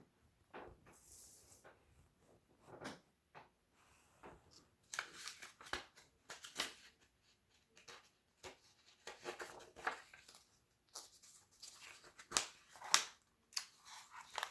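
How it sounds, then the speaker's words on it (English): Paper pages of a book rustle and flick in faint, scattered bursts, like someone struggling to turn a page, with quiet pauses between the soft swishes. "Having difficulty turning the page."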